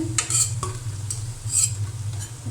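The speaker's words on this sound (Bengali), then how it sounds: "তো জালটা কমাই ভাজতে হবে, বেশি জালে ভাজলে উপরে পুড়ে যাবে কিন্তু ভিতরটা ভালোভাবে হবে না।" Cabbage pakora frying in oil in a pan on low heat, a soft steady sizzle under a low hum, with a few brief scraping stirs near the start.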